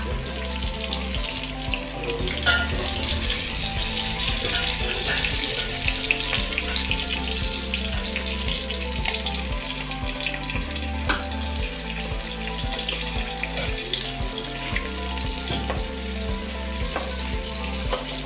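An egg frying in a pan produces a continuous close sizzle with soft stirring and scraping sounds, while faint running water adds to the background and no one speaks.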